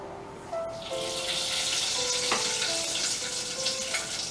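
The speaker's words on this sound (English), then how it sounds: "we have heated our pot, and the very first thing I'm going to add is this butter" Butter hits a heated pot and bursts into a steady, close sizzle that holds bright and even, with a faint clink near the middle.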